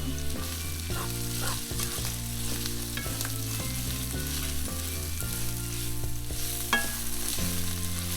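Beef fries in sesame oil in a pot while being stirred, giving a continuous loud sizzle and crackle over steady tonal background music.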